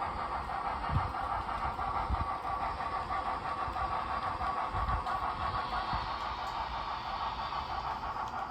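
An HO scale model train rumbles along a layout steadily with a light rhythmic clatter and faint hiss, continuous and fairly close throughout.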